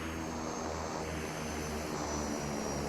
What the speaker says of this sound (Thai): ตอนที่มีแบบ เสียงเครื่องบินอ่ะ